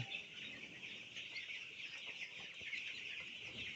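A flock of broiler chickens on a farm keeps up a dense, continuous chorus of clucks and soft calls, steady and moderately close, with no voices.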